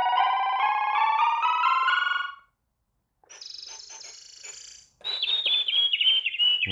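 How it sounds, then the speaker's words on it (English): Synthetic bird sound effect from a foldable silicone roll-up piano, with bright chirping tones in two bursts separated by a short silence, played alone at moderate volume. "We have bird sounds at 123, some ocean sounds at 122."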